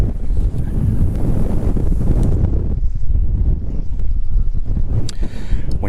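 Strong wind buffets the microphone on a fishing pier at Cape Henlopen State Park, a steady loud rumbling roar that continues throughout with no talk over it.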